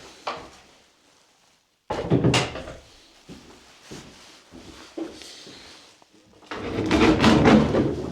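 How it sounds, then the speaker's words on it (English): Wooden doors of a remote bothy in Scotland's far north are swung shut, giving several knocking thuds and scrapes, then a loud rattling clatter near the end, close by with no talk. "I'll close these doors."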